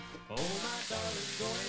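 Cut-up bacon sizzles and fries in a skillet, a steady close hiss with crackling that swells after a brief quieter start and stays continuous to the end.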